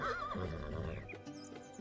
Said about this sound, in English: He brought the horse to Musa's house